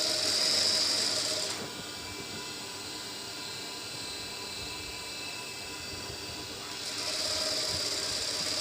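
A sewing machine stitching a kameez runs in a steady, faint mechanical whir, with a slightly brighter buzz at the start and again near the end.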